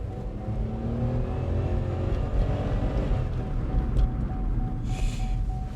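A Chevrolet Spark (The Next Spark), a small car that was once flood-damaged, accelerates gently while driving, heard from inside the cabin as a steady low engine drone with road rumble.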